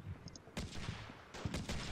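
Distant gunfire in Combat Mission Shock Force 2 crackles faintly as a few quick bursts of shots, separated by brief pauses, over a low background hum.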